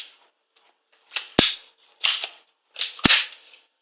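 A Nerf Star Lord Quad Blaster firing foam darts, three sharp snapping shots spaced about a second apart, each with a brief mechanical rattle around it, close and fairly loud in an otherwise quiet room.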